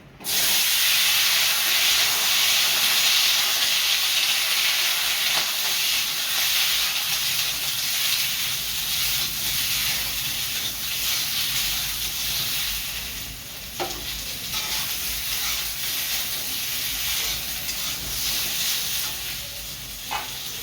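Potatoes frying in hot oil for an aloo-cauliflower dish, a loud, steady sizzling hiss that runs unbroken for the whole stretch.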